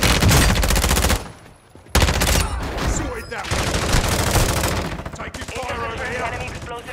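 Rapid automatic gunfire rattles in dense bursts during a Call of Duty Warzone match at Vondel Park, loud and close, with a brief lull before the firing resumes.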